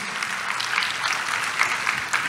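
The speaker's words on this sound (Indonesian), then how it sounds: "tepuk tangan dulu dong buat Tuhan Yesus" A church congregation applauds together, a dense, even clatter of many hands, moderately loud and sustained throughout.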